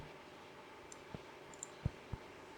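A relay switched on and off by an Arduino gives a few sharp, quiet clicks spaced about a quarter second apart, close up over low background hiss.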